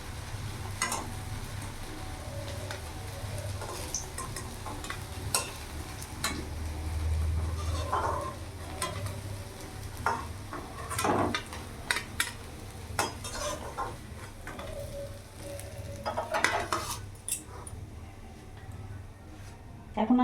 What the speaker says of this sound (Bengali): আমি লাল লাল করে বড়াগুলো ভেজে নিয়েছি